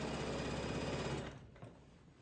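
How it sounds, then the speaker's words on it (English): A sewing machine fitted with a walking foot hums along quilting wavy lines, a steady close whir that winds down and stops partway through. "I'm quilting another wavy line"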